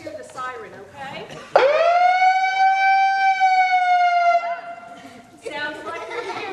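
An emergency vehicle siren rising sharply and holding a loud, clear wailing tone close by for several seconds, with talking before and after it.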